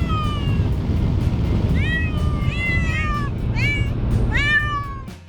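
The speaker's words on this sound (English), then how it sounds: "The only time the cats would cry is when we opened the windows." Two cats in a car driving across Peru cry with several drawn-out meows, rising and falling, heard over a constant low road and engine rumble with wind noise.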